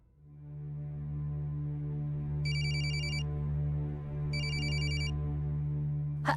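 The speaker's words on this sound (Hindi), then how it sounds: "गुंजन का फोन।" A telephone rings in two separate bursts of bright electronic trilling over steady background music in an indoor scene from a Hindi television drama.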